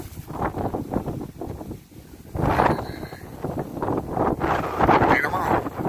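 Outdoor wind buffeting the microphone beside a garden hedge, a loud rumbling roar that rises and falls in gusts for several seconds, with no clear speech.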